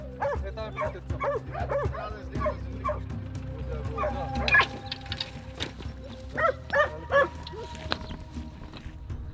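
Hunting dogs on a jackal hunt near Drangovo, yipping and barking repeatedly in bursts at moderate distance, with some whimpering and people talking underneath.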